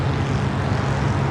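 Skydiving airplane engine drones in a steady, loud, unbroken hum with a strong low tone and no voices.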